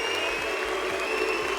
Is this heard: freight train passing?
no